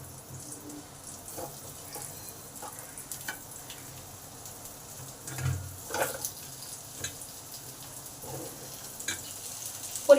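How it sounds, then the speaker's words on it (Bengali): Papaya pieces frying in hot oil with a pinch of asafoetida in a pan, a low, steady sizzle with scattered crackles and a few louder bursts of spatter, close and fairly quiet. "পেঁপেগুলোকে আগে ভেজে নেব।"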